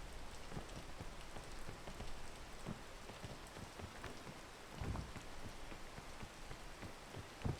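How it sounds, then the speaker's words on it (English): Steady rain falls on rocks along a hiking trail, a dense even patter of drops close by with no voices and occasional slightly louder splashes. "the rain is not making the rocks slippery"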